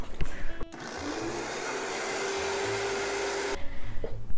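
A blender on the floor purees cauliflower in one steady, loud whirring run of about three seconds, with clattering and knocking just before it starts and as it stops.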